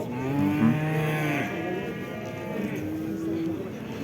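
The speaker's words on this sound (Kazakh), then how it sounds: "уй баласы абдан көп экен." Cows and calves at a livestock market in Karakol give drawn-out moos, one long low call early on and another a couple of seconds later, over a murmur of market background.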